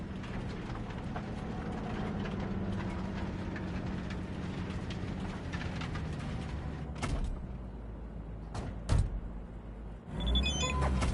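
In the game Cyberpunk 2077, a train gives a steady low mechanical rumble with a long drawn tone, followed by a few sharp clanks and a thud near the end, with no talking.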